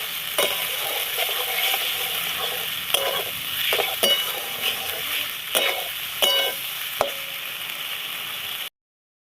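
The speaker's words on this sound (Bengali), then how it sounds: "ভাজা আলুগুলো দিয়ে আর একটু ভাজা ভাজা তৈরি করবো তারপর দেবো" Fried potatoes sizzle in oil and masala for a traditional mochar dhoka dalna, with a steady frying hiss broken by several sharp spatula scrapes and stirs against the pan, close and fairly loud.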